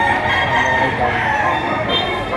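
Roosters crow in a busy poultry market at Padre Garcia, Batangas, where fighting cocks are sold; the calls ring out steadily over a dense, noisy crowd backdrop.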